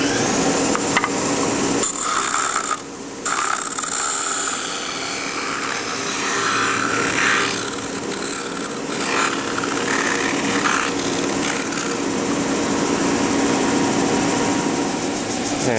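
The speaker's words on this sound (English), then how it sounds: "Now I'm going to use the disc sander to take care of the rest of it." A disc sander grinds down a wooden part for a homemade battle bot, a loud, steady whirring roar that runs close and unbroken for the whole stretch, with only a brief dip near the start.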